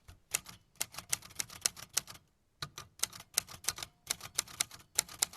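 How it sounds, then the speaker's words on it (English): An Iranian typewriter clacks in rapid bursts of keystrokes, a crisp, close rhythm of mechanical strikes with a brief pause midway before typing resumes. "This is an Iranian typewriter."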